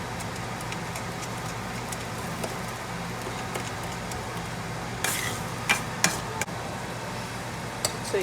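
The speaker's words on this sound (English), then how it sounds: "Fry this masala till oil gets separated." Coconut masala for a fish curry frying steadily in a pan, a soft continuous sizzle with occasional stirring clicks and scrapes, quiet and close.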